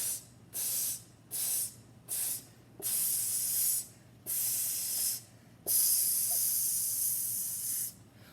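Rhythmic vocal hissing that mimics a sizzle, in a music rhythm drill. Eight sustained bursts of breathy hiss come in short and long lengths, with brief gaps between them, close and fairly loud over a low steady hum.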